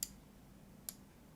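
Two sharp, faint computer mouse clicks while dragging a layer in Google Maps, one at the start and another a moment later, over a quiet room hum.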